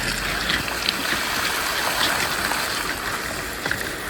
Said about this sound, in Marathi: इकडं पाणी येतं या इथनं